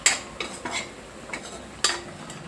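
Spoon clinks and scrapes against a cooking pan as spiced pieces are stirred and turned, a few separate clatters spaced irregularly, moderately close, with no talking.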